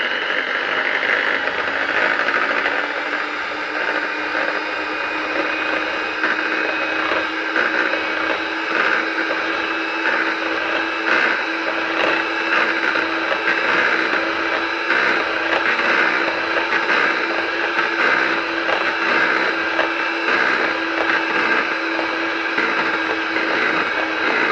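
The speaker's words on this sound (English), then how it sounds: "So I've got my electric whisk out, and we're just gonna whisk them into soft peaks." Electric whisk whirring steadily through egg whites for a cheese souffle, a continuous close, loud motor hum with slight wobble as the beaters work the bowl, no talk.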